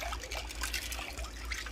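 A utensil stirs pinto beans in a pot, giving a wet, sloshing swirl with faint liquid trickles, close and steady for a moment.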